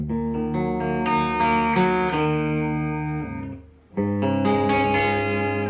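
Sustained chords on a Firefly FFLV electric guitar through a pedal and amp ring out with an effected, shimmering tone, pausing briefly before another chord rings in.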